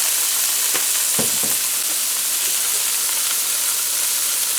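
Vegetables for veggie fried rice fry in a pan with salt and pepper, giving a loud, steady sizzling hiss throughout, with a few brief clicks and scrapes of stirring near the start.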